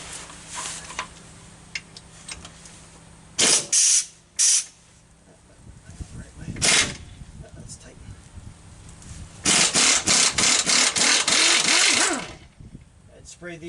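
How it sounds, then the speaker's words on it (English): Short hissing bursts of spray lubricant aimed at seized parts on a 2003 Silverado, with two brief blasts and then a longer sustained spray up close, separated by quieter stretches. "Spray these up before I set the camera up."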